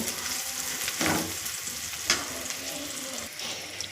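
Onions frying in a pan for egg fry, stirred after salt is added, give a steady close sizzle broken by two louder scraping stirs.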